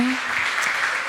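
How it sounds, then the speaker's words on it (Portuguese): Applause from a church congregation during a morning service, a steady dense patter of many hands clapping, fairly loud and continuous for about a second. "aplauda o Senhor nessa manhã"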